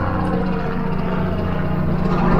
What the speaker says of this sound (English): Got a tour helicopter coming over